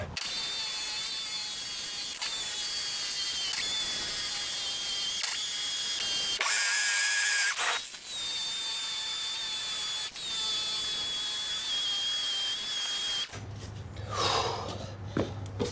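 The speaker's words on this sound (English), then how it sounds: "now we're just going to make sure that we drill everything about that deep" Power drill boring anchor holes into a wall while a wall-mounted pressure washer is being installed, running in long continuous whirring bursts with brief pauses, close and loud, with no talk.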